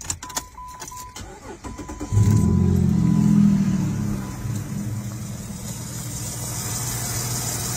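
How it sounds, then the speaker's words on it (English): Car engine cranking briefly after a few beeps and clicks, then catching into a loud rev that settles to a steady idle, heard close up and alone. "Then I'm going to go start the vehicle."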